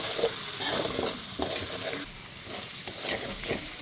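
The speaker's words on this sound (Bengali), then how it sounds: "এরপরে আবারও মশলাটা কষিয়ে নিতে হবে" Spices sizzle in a hot pan with chili powder, a crushed black cardamom pod and two cinnamon sticks. A spoon scrapes and stirs at an uneven rhythm over the continuous hiss of oil.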